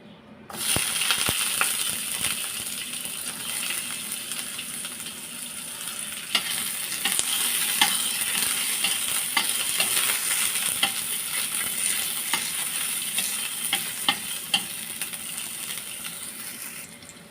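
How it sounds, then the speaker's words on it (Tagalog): Garlic and onion sautéing in a pan for a vegetable and shrimp dish, a steady bright sizzle running continuously, close and even in level, with faint clinks of stirring. "Isa tayo ng bawang at sibuyas."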